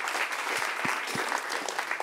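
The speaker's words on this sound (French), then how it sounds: "On l'applaudit s'il vous plaît" A studio audience at a French talk show claps for a participant, dense continuous applause filling the whole short stretch, close and fairly loud.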